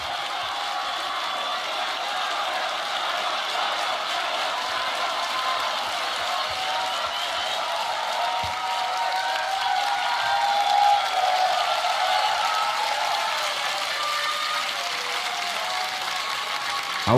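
Sustained, dense applause and cheering from a live audience at the Grand Beatbox Battle 2023 tag team final, a steady roar that holds at an even level throughout with a slight swell near the middle.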